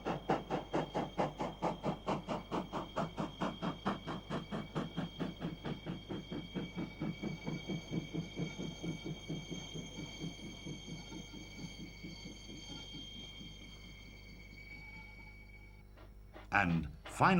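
A South African Railways class 19D steam locomotive hauls a mixed train over a stone bridge with a steady, rhythmic chuff that slowly fades. A sharp hiss or whistle bursts out near the end.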